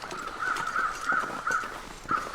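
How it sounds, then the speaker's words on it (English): In The Long Dark video game, crows caw repeatedly in a quick, uneven series of harsh calls, fairly close and clear against a quiet outdoor background. "the crows, if I actually decided to live here, would drive me insane because they will constantly be over here"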